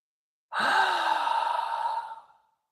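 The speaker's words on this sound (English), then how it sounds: "on the exhale, blow it out audibly, releasing any other tension that you might be holding in your body" One deep breath is blown out audibly through the mouth, a soft, close sigh-like exhale lasting about two seconds that trails off into silence.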